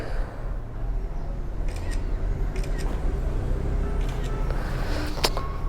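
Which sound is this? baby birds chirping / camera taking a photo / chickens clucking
camera taking a photo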